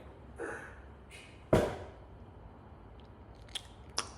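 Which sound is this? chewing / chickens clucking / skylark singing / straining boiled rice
chewing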